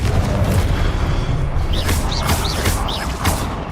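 A fiery Confringo spell blast in Hogwarts Legacy, a deep rumbling boom with sustained low roar and crackle, followed by several short rising whooshing tones close up.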